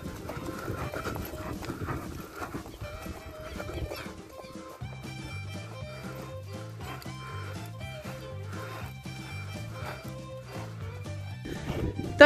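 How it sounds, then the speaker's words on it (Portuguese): A mare's hooves clip-clop steadily on ground during a vaquejada cattle-herding training run, with a rhythmic gait and other faint activity in the background. "esse foi um treino massa aqui com a égua capa de revista, o vaqueiro Silvan e o esteira"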